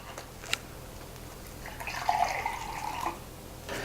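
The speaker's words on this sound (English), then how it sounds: "And then what we're going to do is fill 2 cups with water." Water poured from a tap into cups, a soft, close trickle building to a steady stream for about a second before stopping.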